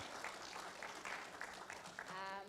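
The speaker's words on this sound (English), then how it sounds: "A round of applause for the panel." Audience applause for a panel at a county assemblies legislative summit in Mombasa, dense continuous clapping from a hall with a few voices mixed in.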